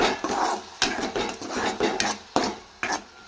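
A utensil stirs moong dal frying in oil in a pan, scraping and knocking against the metal in a steady run of sharp clinks and scrapes, close and alone without talk.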